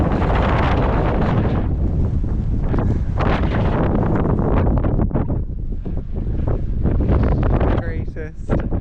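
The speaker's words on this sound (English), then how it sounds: "All I get is wind." Strong gusts buffet the microphone on a coastal river walk across from Padstow, a loud continuous roar of wind noise that swamps everything, with a voice heard faintly under it.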